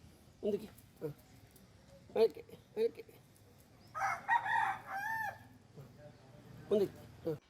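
Several Kadaknath chickens cluck and call in short bursts, with one longer crowing rooster call in the middle; fairly close and moderately loud.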